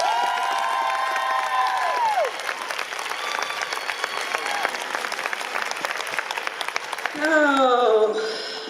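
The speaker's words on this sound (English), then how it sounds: "Please put your hands together" A large crowd at the 2018 Women's March on Roanoke applauds and cheers loudly for a speaker's introduction, sustained clapping with whoops throughout while a voice speaks over it.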